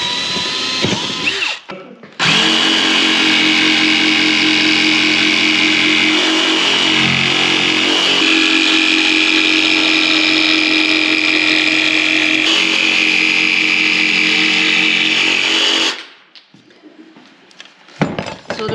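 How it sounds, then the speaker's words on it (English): Power drill boring corner holes through 15mm lightweight plywood for camper overhead locker cupboards, one long continuous loud whirring run lasting about fourteen seconds, starting and stopping abruptly. "So now I'm just going to drill the corners."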